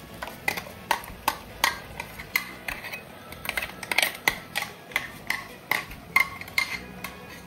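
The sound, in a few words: stirring squid ambot tik in a pan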